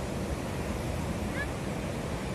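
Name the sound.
ocean waves breaking on beach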